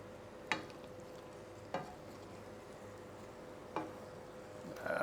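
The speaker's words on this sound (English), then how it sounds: "let's stir this all around" Pasta shells are stirred into a tuna casserole sauce, giving a low quiet background with three or four separate scraping stir strokes spaced a second or two apart and a brief rustle at the end, with no voices.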